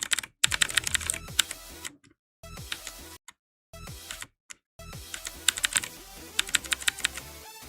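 Rapid keyboard clicking during Geometry Dash play, with close, crisp key taps in irregular clusters broken by several short silent gaps, moderately loud with no talk.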